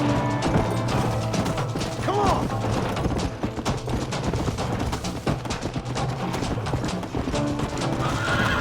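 Horses in the Red Dead Redemption video game whinny loudly over steady clip-clopping hooves and a busy game backdrop of music and clatter, with voices faintly under the noise.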